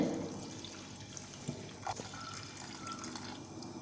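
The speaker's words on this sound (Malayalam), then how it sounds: "ഇതിൽക്ക് ഒന്നര കപ്പ് വെള്ളം ആണ് ഒഴിച്ചെടുക്കുന്നത്" Water poured from a vessel onto crushed cube jaggery in a kitchen pan, a steady close splashing pour with small drips and clinks, no talking.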